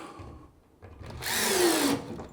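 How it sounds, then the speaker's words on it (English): A power drill drives screws into a wooden subwoofer enclosure, a short whirring burst that rises and bogs down as the screw seats, close and loud after a quieter lead-in. "I usually like to start off in the middle and work my way out to put all the screws in"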